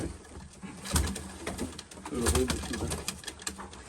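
Pigeons coo softly nearby, their low calls repeating over a faint rustling and steady background hiss.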